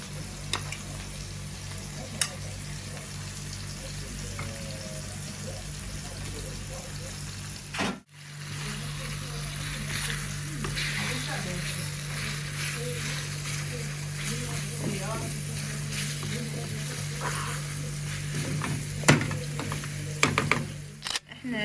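Chicken fries in oil in a pan, a steady close sizzle with occasional stirring clatter running throughout, under faint background talk.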